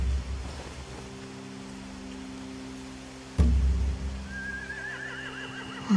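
Horses whinnying in The Walking Dead game, a sharp burst midway followed by a wavering high neigh trailing off, set over a low steady ambient hum with no talk.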